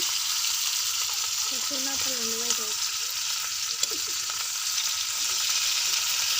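Onion, garlic and dried chili fry in oil for a dried-fish mash, giving a steady, even sizzle that holds at a constant level throughout, with faint clinks and stirring scrapes near the pan.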